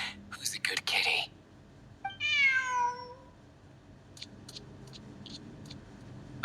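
A cat meows once in the Genshin Impact video game, a clear, drawn-out call set between short bursts of game sound effects and faint ticking, quiet overall.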